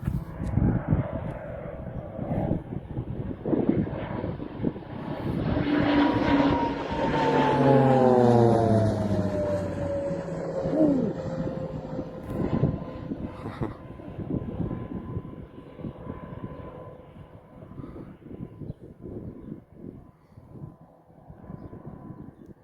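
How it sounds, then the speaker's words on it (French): A fixed-wing airplane flies low overhead in the French countryside near a house and farm, its engine drone swelling to a loud pass with a falling pitch, then fading away under the steady noise of walking outdoors. "nous avons un avion qui arrive sur nous"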